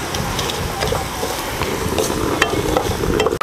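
Dried red chilies fry in oil for an eggplant dish, giving a dense, close sizzle with crackles and scraping stir strokes throughout and no talking.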